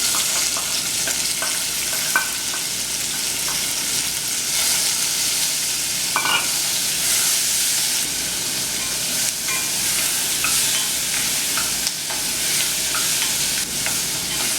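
Vegetables frying in hot oil in a pot for a Trinidadian potato oil down, with a steady, loud, close sizzle and occasional stirring scrapes throughout, no voices.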